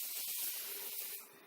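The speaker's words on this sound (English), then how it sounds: "With this one I can make it a harder sort of spray, flushing out any dirt that could be in the corners." A hard, close hiss of water spray flushing dirt from the corners and edges of a window during a tinting job, steady for about a second before tapering off.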